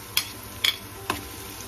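Garlic sautés in a pan for a bitter gourd and egg dish, with three sharp scraping stirs of a utensil over a soft, low sizzle and no talk.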